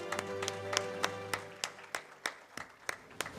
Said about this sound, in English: I think we need more people to clap for each other.